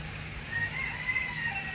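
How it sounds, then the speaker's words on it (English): A rooster crows faintly in the distance, its drawn-out call rising over a steady hiss of heavy rain. "Do you hear my roosters now?"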